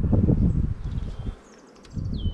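Honey bees buzz at hive frames as a black bee colony is handled during beekeeping. The buzzing is dense and close, dips briefly, then swells again, with rustling around it and a faint high bird chirp above.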